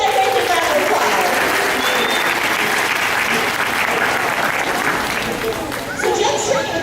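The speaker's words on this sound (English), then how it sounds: "So let's give Callie and Jen a great big round of applause." Audience applause fills a sea lion show at an aquarium in Connecticut, a dense, steady patter of many clapping hands that holds loud and even for nearly seven seconds, with no talk over it.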